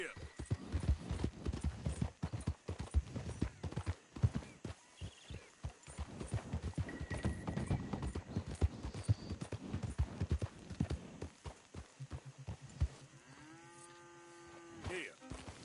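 Horse hooves in Red Dead Redemption 2 clip-clop in a brisk, steady rhythm close by. Faint cattle lowing is heard in the background, and a tonal game sound rises near the end.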